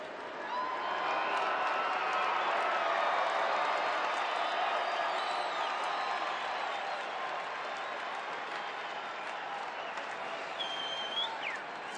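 A baseball stadium crowd of nearly 48,000 at a St. Louis at Colorado game in September 2009 makes a steady, distant murmur and hum of applause, continuous and even throughout.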